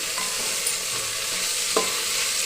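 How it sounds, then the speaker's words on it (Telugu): Okra sizzles steadily in a hot pan as it is fried, with a spatula scraping and stirring through it a few times, close and continuous, with no voices. "వేగిన తర్వాత బెండకాయలు వేసుకున్నాం. బాగా వేయించుకోవాలి."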